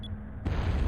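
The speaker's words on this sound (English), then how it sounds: "there was an explosion off the port bow" An explosion in the video game Skies of Arcadia, heard as a sudden low rumbling burst that kicks in partway through after a quiet start and keeps rolling loudly.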